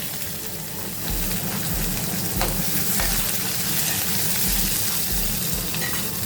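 Chopped onion hits hot oil with cumin seeds in a pan, bursting into a loud, close sizzle that crackles steadily, with a few scrapes of stirring over the frying.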